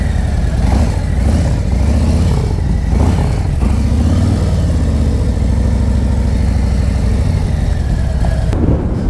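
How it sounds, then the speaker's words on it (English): A motorcycle engine runs steadily through a slow U-turn, held in the friction zone with light rear braking and dipped to one side, a close mid-pitched drone with small swells of throttle and no talk. "I'm going to dip the motorcycle out to the left, bring it to the white line on the right"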